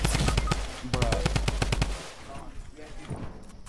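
Rapid bursts of automatic gunfire ring out in the Fortnite video game, a loud close string of shots that stops partway through, followed by quieter game noise.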